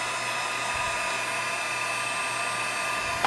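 An embossing heat gun blows steadily while warming epoxy on a painted swirl tumbler, a constant close whine and airy roar with a faint tonal hum, ending in a small click.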